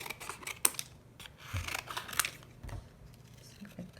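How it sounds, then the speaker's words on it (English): Scissors snip through traced coffee-stained paper sheets in short, quiet, irregular cuts close by, with soft rustles of paper between snips. "So I have these already traced on my coffee sheets. So I'm going to go ahead and cut them around right now."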